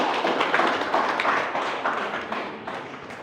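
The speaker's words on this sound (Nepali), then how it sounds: "त थपडी मानिदिनुहोस् यहाँलाई सबै।" Steady, dense applause from an audience at a felicitation ceremony honouring COVID-19 volunteers, many hands clapping together continuously at close range and fading slightly toward the end.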